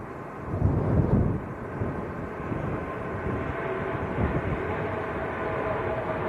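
A Ryanair airliner on its takeoff roll at Manchester Airport on a windy day gives a steady, broad jet roar with no talk. The roar swells briefly early on, then holds at a moderate, somewhat distant level.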